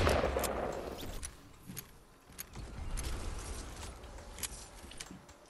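A minigun in a console shooter sprays a wall with rapid, crackling gunfire: a rough continuous rattle of shots and impacts with sharp clicks scattered throughout, moderately loud and without talk.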